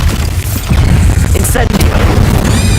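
Bombarda blasting spell in Hogwarts Legacy, a loud, close booming explosion with a sharp crack near the middle, sustained rumbling throughout and a voice partly buried under the blast.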